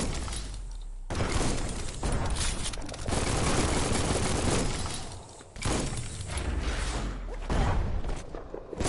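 A bomb lobber weapon from the Biomutant game fires repeatedly, making loud, close, booming blasts and shattering crashes that come in long dense waves with brief pauses between them.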